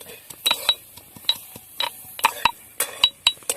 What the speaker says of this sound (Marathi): हा लसूण आता बारीक कुटून घेणार आहोत खलबत्त्यामध्ये